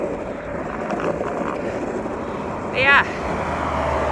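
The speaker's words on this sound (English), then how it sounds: "There's a lot of traffic to my left." Road traffic rumbles steadily beside a trail, a broad continuous wash of passing vehicles heard close by, with someone talking briefly over it.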